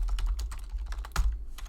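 Rapid, uneven clicking of keys on a computer keyboard, close and crisp, with a quick burst of keystrokes and a louder key thump near the middle, and no voices.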